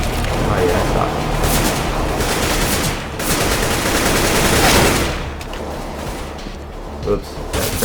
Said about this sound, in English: Oops, that's friendly fire. I thought he was shooting at me.